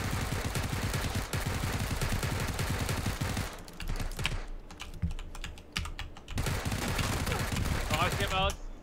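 Rapid automatic gunfire from the battle royale game PUBG rattles in dense bursts, with a gap midway where it thins out, while a player's keyboard clatters loudly in the foreground and a voice talks faintly over it.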